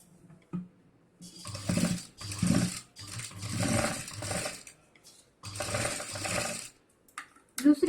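A sewing machine stitches a fabric side bag (ladies' bag), running in several bursts of steady whirring with short pauses between, close and fairly loud, no talking.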